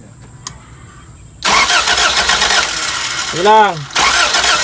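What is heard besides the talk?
engine hard starting, turned over without gas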